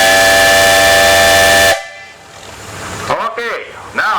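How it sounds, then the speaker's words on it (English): A loud, sustained steam whistle blows to signal steam is up at a farm steam engine, a rich harmonic blast that cuts off abruptly, followed by someone talking. "So this is the whistle that he would give in the morning, telling the crew, telling the whole countryside,"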